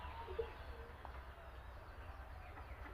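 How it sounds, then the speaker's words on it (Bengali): A newly bought pet pigeon coos softly and low, a faint, steady throaty rumble heard close with no talk over it. "নতুন কবুতর তো আজকে কিনে নিয়ে আসছে"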